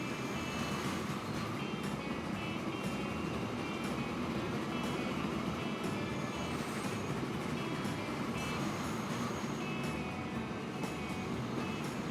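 Steam train rumbling in Transport Fever, a steady, fairly quiet rolling drone with a constant low roar and faint higher hiss running unbroken throughout, no speech.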